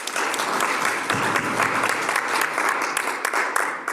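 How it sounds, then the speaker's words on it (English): A conference audience at a Botswana event claps loudly for a discussion panel, a thick, sustained wash of many hands applauding with a few sharper claps standing out. "Can we give them please a round of applause?"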